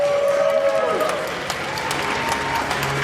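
Audience applause for a costumed contestant at a monster-movie costume event, scattered clapping under a drawn-out tonal whistle-like sound and a voice, moderately loud.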